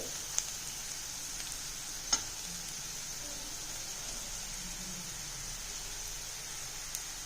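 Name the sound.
frying tempering spices in oil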